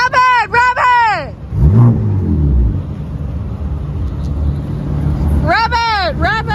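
A BMW M4 with big turbos accelerating at a supercar meet, a deep engine roar swelling and rumbling past between bursts of excited shouting from the crowd nearby.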